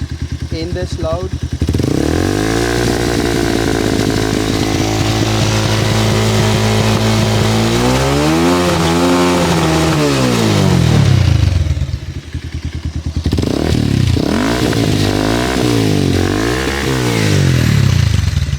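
A Bajaj Pulsar 220 with a Yoshimura exhaust system idles loudly nearby, then revs up in a long swell and falls back, followed by several quick throttle blips with a choppy, popping exhaust note.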